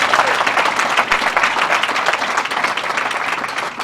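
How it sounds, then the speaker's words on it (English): Audience applause at a HOPE For Prisoners graduation ceremony: dense, steady clapping from a large crowd that holds loud and even throughout, with no voices over it. "Please give her another big, gigantic round of applause."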